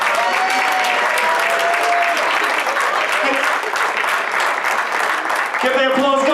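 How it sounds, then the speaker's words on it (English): A gala audience claps loudly and steadily for the full stretch at a tenth-anniversary celebration, with a few cheers and voices mixed into the dense applause. "Keep the applause going."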